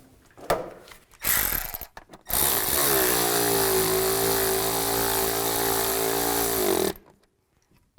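Bolts on the idler pulley cover of a 2005-15 Nissan Xterra are tightened with a power driver: a couple of short bursts, then a steady, loud motor whine that holds for about four seconds and stops abruptly.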